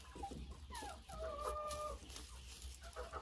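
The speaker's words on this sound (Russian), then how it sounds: "Вот там сидит курица." A laying hen clucks in a coop beside a sloped nest box, a run of close, bright cackles and drawn-out calls over steady barnyard background noise.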